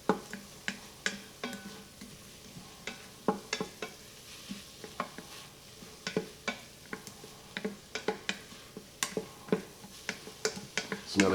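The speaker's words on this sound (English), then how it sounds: "Nothing like the smell of onions and garlic sauteing in butter." Garlic and onions sauteing in butter in an Instant Pot, with a spoon stirring through the pan in frequent irregular clicks and scrapes over a soft, steady sizzle, close and fairly quiet, with no talking.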